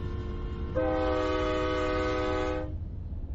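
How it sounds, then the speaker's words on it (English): A loud, sustained train whistle in Nebraska blows a steady multi-tone chord for about two seconds, then cuts off, over a low rumbling background. "A train whistle is one of my favorite sounds."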